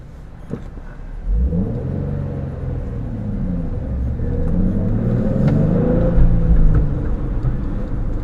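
Nissan 350Z engine heard from inside while driving, a deep close rumble that swells as it revs, pitch climbing and dipping through gear changes over several seconds.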